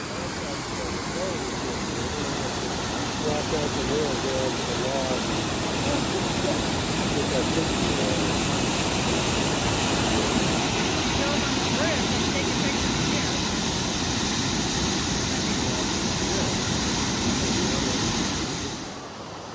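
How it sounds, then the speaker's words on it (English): Sol Duc Falls in Olympic National Park, a waterfall heard as a steady, loud, broadband roar of rushing water that fills the whole span without letup, fading slightly at the very end. "this is Soul Duck Falls here at Olympic National Park"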